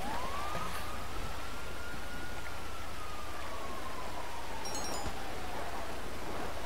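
Police siren in the video game GTA V, a single long wail that slowly rises and falls at moderate volume over a steady hiss of rain-like noise.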